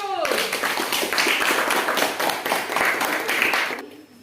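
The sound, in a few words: classroom applause for group 1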